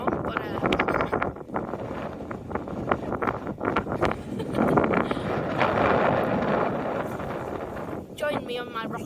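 Wind buffets the microphone in a steady, roaring rush with gusty swells, while people talk faintly underneath.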